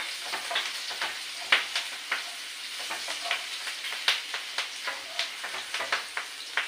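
Dried red chilies, panch phoron and crushed garlic frying in hot mustard oil, a soft continuous sizzle broken by frequent light crackles and pops, close and fairly quiet with no talk.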